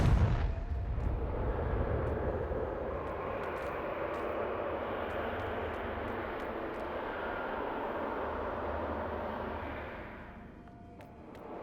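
Confringo fire spell blast in the video game Hogwarts Legacy, a sharp burst opening into a long, steady roaring rumble that holds for about ten seconds before dying away.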